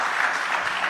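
Audience applause at a News18 summit in Rajasthan, a steady dense wash of clapping filling the whole short moment at moderate loudness with no voices over it.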